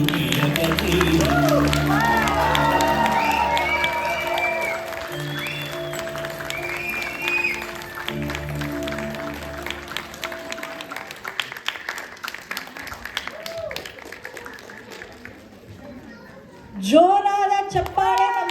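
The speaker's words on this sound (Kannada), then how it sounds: "ಜೋರಾದ ಚಪ್ಪಾಳೆ ನಮ್ಮ ಪುಣ್ಯಕೋಟಿ ಟೀಮ್ಗೆ" Indoor audience applause for a children's Punyakoti drama team at a Deepavali show, a dense wash of clapping and crowd noise running under speech and singing, fading out before a short louder burst near the end.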